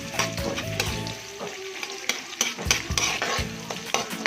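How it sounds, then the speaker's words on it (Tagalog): Onions sautéing in a hot pan, a continuous close sizzle punctuated by repeated scraping and tapping of a spatula against the pan. "So, igisa natin siya guys."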